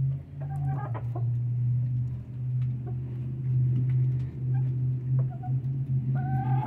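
Hens in a chicken coop at dusk cluck softly and intermittently over a steady low hum, with occasional sharper calls nearby and no talking.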